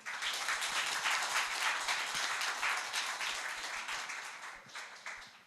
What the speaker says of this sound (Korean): 여러분들 박수 주시면, 큰 박수 주시면 바로 시작하도록 하겠습니다.